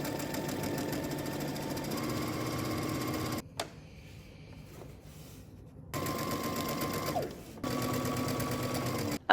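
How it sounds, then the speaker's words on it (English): A sewing machine runs steadily while stitching a 5/8-inch seam and understitching a dress, whirring in two long bursts separated by a pause of a few seconds, then a short stop before a final stretch. "stitch across the top using 5/8 of an inch seam allowance, and while at the machine, we'll go ahead and understitch"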